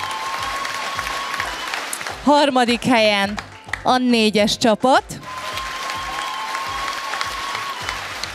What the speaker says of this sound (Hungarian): Tapsot nekik!